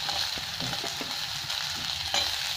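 Large onions fry in a hot pan for egg chilli, giving a continuous close hiss and sizzle with soft stirring knocks underneath.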